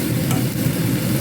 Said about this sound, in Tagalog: ginisa ko yung sibuyas